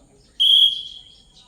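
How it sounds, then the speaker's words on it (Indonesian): A sharp, shrill whistle is blown once to start an exercise in a junior high school physical education class, loud and sustained for about half a second before trailing off, in an otherwise quiet setting. "Kalau peluit dibunyikan mulai ya."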